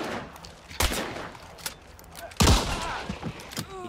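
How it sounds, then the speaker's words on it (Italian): Gunfire in the video game Hunt: Showdown, with two loud, heavy shots standing out among scattered quieter, more distant reports and thuds. "Altri spari davanti a noi."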